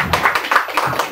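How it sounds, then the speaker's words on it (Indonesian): Brief clapping, a handful of people applauding in quick, uneven claps for about a second. "Tepuk tangan dulu."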